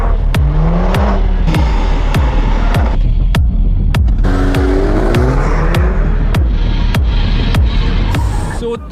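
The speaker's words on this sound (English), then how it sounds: "they are exploiting the limits of this hot hatch" An AMG hot hatch is pushed hard around a race track, its engine droning loud and close as revs climb and fall, with sharp regular clicks or pops ticking through the noise.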